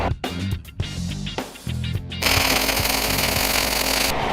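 Steady, loud crackling buzz of welding a 90-degree pipe elbow onto a shop chimney pipe, starting after a couple of seconds of scattered knocks and clanks and then running continuously at close range.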